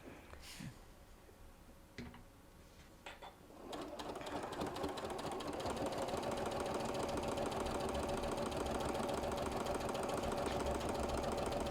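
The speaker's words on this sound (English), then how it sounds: "It's harder sewing slower, isn't it?" A sewing machine fitted with a walking foot stitches through thick stacked layers of fabric for a clutch wallet, starting with a few short bursts and then running in a steady, loud, continuous mechanical whir close by.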